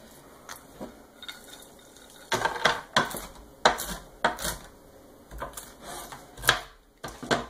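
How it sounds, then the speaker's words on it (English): A knife coarsely chops walnuts on a board in a series of irregular close thuds and clicks, with some hits louder than others and short pauses between bursts. "And just give them a coarse chop good."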